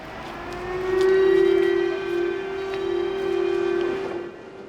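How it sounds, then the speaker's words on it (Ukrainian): An air raid siren in Ukraine wails steadily, holding a long sustained tone that swells and dips slightly in loudness, heard alone from a distance. "Раптом знову лунають сирени."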